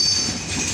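A train with locomotive 6604 at Santahar Junction in Bangladesh gives a brief, loud rumble of wheels on rail with a short metallic squeal, close by.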